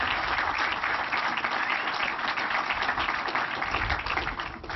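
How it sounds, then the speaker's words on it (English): An audience at a Hurricane Katrina memorial ceremony applauds after a musical performance, a dense, steady wash of clapping that holds evenly throughout, heard at moderate distance with no talk over it. "Let's give her another round of applause."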